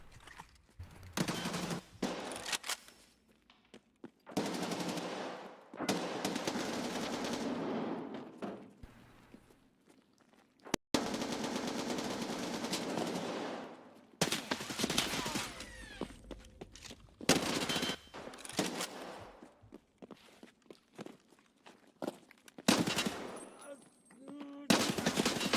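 Repeated bursts of automatic gunfire in the shooter game Escape from Tarkov, long sustained volleys broken by short gaps and a few single shots, loud and close, with faint talk between bursts.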